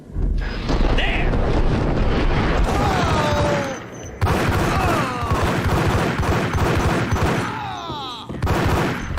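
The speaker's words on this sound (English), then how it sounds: "Where did that shot come from?" Gunfire from the Max Payne video game crackles through the whole stretch, dense and continuous like a fusillade, with a short gap midway and whooshing effects over a steady rumble.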